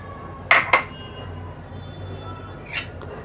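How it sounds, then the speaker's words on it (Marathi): Rava (semolina) is moved into a bowl in a home kitchen, with two quick metallic clinks close together, then a softer clink a couple of seconds later over quiet room tone. "आता आपण हा रवा एका वाडग्यात काढून घेऊया"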